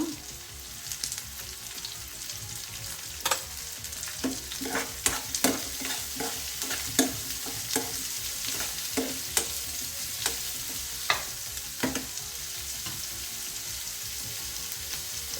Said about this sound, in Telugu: ఆనియన్స్ వేసుకున్నాక కొద్దిగా సాల్ట్ వేసుకుంటే ఆనియన్స్ తొందరగా మగ్గుతాయి అన్నమాట